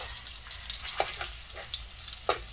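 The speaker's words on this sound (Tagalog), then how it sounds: "Bawang yung inuna ni Los pag gisa guys." Garlic sautés in a hot pan for an adobo dish, giving a bright, steady sizzle with a few soft stirring clicks and scrapes, close and alone.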